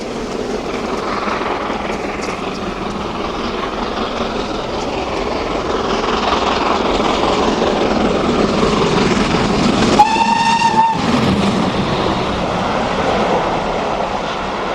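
A British steam locomotive rumbles past loudly and continuously, a heavy churning roar, with a short sharp whistle blast near the end.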